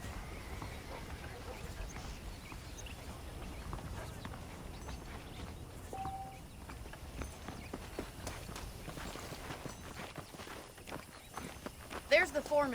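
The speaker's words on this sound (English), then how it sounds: "The horses are saddled up over here." Horse hooves clip-clop steadily in a Red Dead Redemption ranch scene with saddled horses, a moderate rhythmic walking gait under continuous game ambience and voices, growing a little louder near the end.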